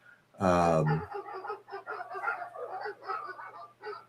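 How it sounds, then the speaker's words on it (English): A dog in a backyard gives one loud, brief bark or yelp, close and strong, followed by ongoing conversational talk over a low steady hum. "That means my dog is in the backyard doing dog stuff."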